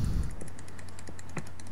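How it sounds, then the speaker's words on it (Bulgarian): A computer mouse clicked rapidly during PvP gameplay, giving quick, light, evenly spaced ticks over a low steady hum, fairly quiet and close. "Какво спамиш тази мишка"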